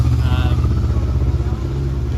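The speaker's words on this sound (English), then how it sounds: "Peter Griffin is just leaving there now. On a motorbike." A motorbike pulls away nearby, its steady, throaty engine rumble holding loud for a couple of seconds while people talk over it.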